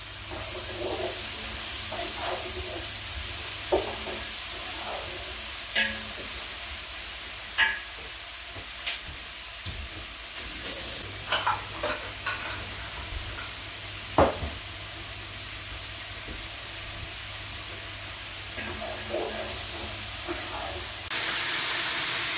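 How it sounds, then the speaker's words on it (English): Garlic and peppers for ratatouille fry in a pan, a steady hiss of sizzling throughout, broken by occasional clinks and scrapes of stirring. No one speaks. "The garlic's just beginning to tinge on the edge of golden brown, so I'm going to add the peppers."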